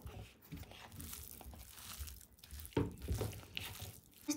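Minced meat being mixed by hand for cutlets, giving soft, wet squelching and crinkling sounds in an uneven rhythm, close and fairly faint, with no talking.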